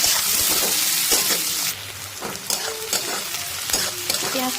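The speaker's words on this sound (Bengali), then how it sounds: "পেঁয়াজটা আর একটু ভাজা হবে" Chopped onions sizzle steadily in hot oil with tempered whole spices for a shrimp and potato dum, a dense crackling hiss broken by several scraping stirs of the spatula, close and loud.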